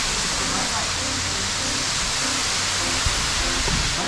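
Waterfall at Akaya Lake in Gunma, reached by stand-up paddleboard, giving a steady, even rushing roar that fills the whole scene, with faint voices underneath.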